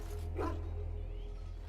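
A war hound in the kennels of Dragon Age: Origins, where half the dogs are sick from Darkspawn blood, gives one short bark over a steady low background hum.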